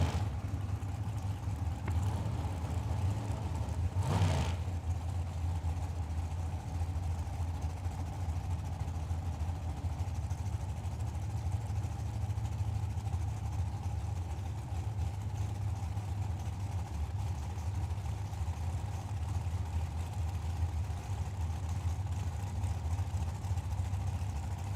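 Drag racing engines idling at the Hangover Nationals, including a 1967 Camaro with a 610-cubic-inch big-block and a TNT rear-engine dragster, a steady low rumble held throughout at moderate distance, with one brief louder burst early on.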